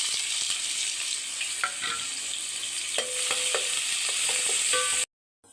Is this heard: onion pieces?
yes